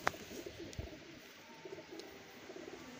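A Kasuri pigeon, a Salara Kasuri, gives soft, low cooing notes in short repeated bursts against quiet background noise, faint and close by.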